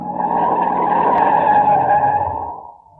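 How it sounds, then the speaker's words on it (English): Car brakes slammed on hard in an old radio drama, tires skidding and squealing loudly for about two and a half seconds before the screech dies away. "I'm shoving the brakes on hard."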